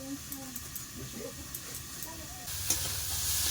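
Turmeric and vegetables frying in oil, a low sizzle with soft stirring scrapes under a woman's speech, then the frying swells louder and hissier near the end.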